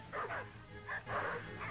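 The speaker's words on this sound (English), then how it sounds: "And he did release the hounds." Hounds barking in the 1932 film The Most Dangerous Game, a series of loud, close bays and yips in uneven bursts, with short gaps between them.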